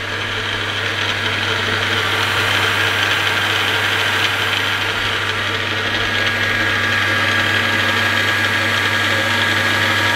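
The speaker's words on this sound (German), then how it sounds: "Motor warm laufen lassen" A car engine idles steadily while warming up, a loud, even mid-pitched hum with a constant low drone and faint mechanical ticking, running alone without voices.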